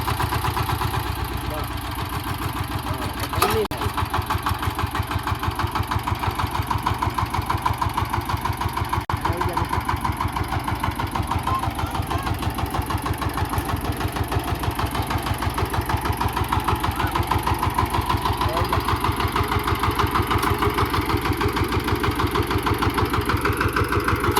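A VST Shakti tractor engine idles nearby with a steady, rapid chugging pulse that runs evenly throughout. People talk over the running engine.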